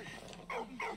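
Dog barking in the World War I video game Valiant Hearts: The Great War, two short close barks in quick succession over a low game background.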